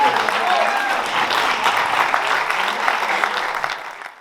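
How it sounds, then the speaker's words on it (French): An audience applauds at a live show, a steady dense clapping from a crowd heard close, with voices mixed in beneath it before it fades out near the end. "On peut vous applaudir, on peut s'applaudir"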